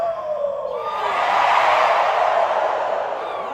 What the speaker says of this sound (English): Let me get a cheer!